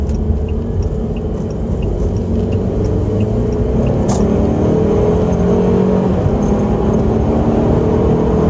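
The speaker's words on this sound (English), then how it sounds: "this is what the resonator delete sounds like inside the car" Cabin sound of a Saab 9-5 with a resonator delete while cruising: a steady low exhaust drone and rumble with a faint whir on top, constant and close, with no one talking.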